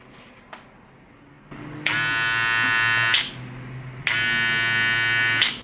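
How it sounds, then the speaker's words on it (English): A Wahl Cordless Senior hair clipper switches on and runs loud and steady with a strong buzzing drone, stops briefly, then starts again for a second run of the same close, powerful buzz. "You can tell as soon as you turn it on, you can hear the power difference."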